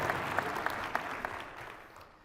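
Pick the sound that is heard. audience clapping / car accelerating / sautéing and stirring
audience clapping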